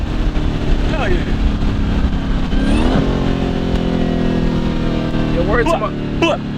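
Dodge Hellcat engine roaring loud and steady up close from inside the car, with a rising rev near the middle, while people talk and shout excitedly over it throughout.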